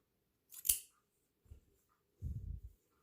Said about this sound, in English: Cut your yarn.